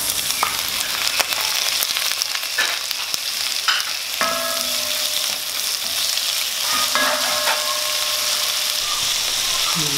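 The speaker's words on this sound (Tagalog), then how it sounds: "gigisa muna natin. Lagyan natin itong sibuyas." Onion and tomato sauté in a pan for Filipino pinakbet, a loud continuous sizzle with stirring clinks and scrapes running the whole time, close and unbroken, with no talking.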